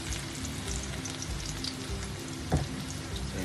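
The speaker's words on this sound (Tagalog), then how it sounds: "nagpainit na po ako ng mantika. So mainit na po, lalagay na po natin ang ating bawang." Chopped garlic sizzles in hot cooking oil while vegetable spring rolls are prepared, a steady close frying crackle throughout with one brief clatter near the end.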